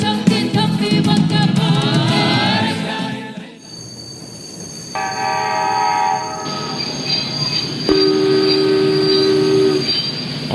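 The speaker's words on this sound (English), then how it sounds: "the train finally arrives at the Warsaw train station" A train pulling into the Warsaw station rumbles in with squealing wheels, followed by long, sustained horn and whistle tones over a steady rail rumble, loud and close.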